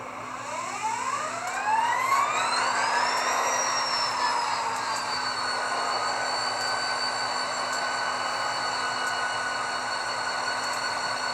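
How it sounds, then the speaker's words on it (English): An HO scale Rapido GP40 model locomotive with a LokSound decoder starts its prime mover, a rising whine climbing in pitch over several seconds before settling into a steady electronic diesel drone, alone and close. "here's function 8 to turn on the prime mover."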